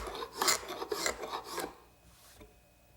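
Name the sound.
hand scraper removing excess dried glue from wood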